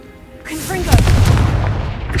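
A Confringo fire spell from Hogwarts Legacy bursts into a loud booming explosion that rumbles on for over a second, with a spoken incantation just before it.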